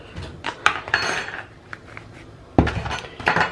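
A frying pan and metal utensils clatter and scrape nearby, with intermittent clinks and a sharp knock partway through.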